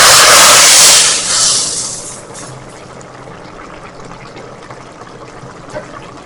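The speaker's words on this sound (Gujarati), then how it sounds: "આ વઘારને આપણે આપણા છોલે ઉપર ગરમ ગરમ લઈ લઈએ." Hot tempering of oil with cumin, asafoetida and red chilli powder poured over cooked chhole, giving a loud sizzling hiss at first that quickly fades to a soft, steady crackle.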